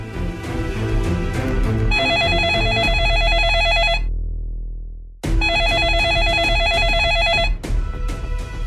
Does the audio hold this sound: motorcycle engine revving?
no